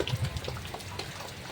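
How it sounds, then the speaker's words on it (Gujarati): Steady rain falling outdoors, a dense hiss with scattered heavier drops close by, heard alone without any voices. "તો ગાઈસ વરસાદ કેવું પડે આમ"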